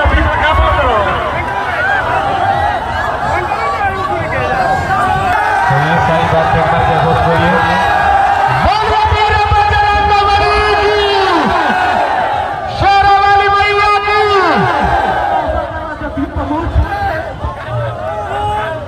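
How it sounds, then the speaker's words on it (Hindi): A dense crowd fills a busy market during a Bhojpuri orchestra dance competition flag program. Constant loud babble and shouting run throughout, with a strong amplified voice or singing riding on top. "मार्केट में बहुत भीड़ होला भैया"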